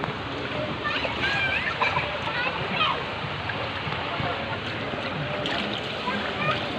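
Water splashes and sprays steadily while a motorcycle is washed outdoors. The wash is close and fairly constant, with irregular spatters over a broad rushing noise, and people talk over it.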